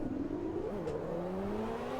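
Ayrton Senna's McLaren MP4-7A Formula 1 car in the racing sim Automobilista 2 gives a loud, buzzing engine note. The pitch climbs steadily as it revs up through a gear.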